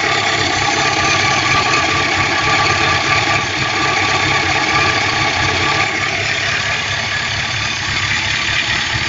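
A car engine idles steadily and smoothly for the whole stretch, a close, even rumble with a faint mechanical ticking and no revving.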